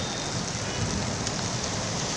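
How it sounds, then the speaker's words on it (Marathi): Unseasonal rain falls on a city on a Sunday afternoon, a continuous, fairly loud hiss of drops with no break across the short stretch. "आजच्या दिवशी बरसलेल्या पावसाने पुन्हा दिलासा मिळाला"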